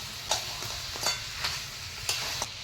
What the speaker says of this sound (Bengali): ক্যাঁকড়াটা দিয়ে ভালো করে কষিয়ে নেবো।